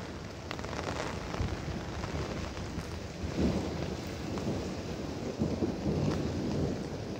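A storm brings steady heavy rain hissing outdoors, with low rumbling thunder rolling through in a few swells, fairly distant and continuous rather than sharp cracks.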